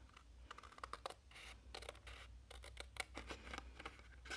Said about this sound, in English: I'm going to take my snips and follow the line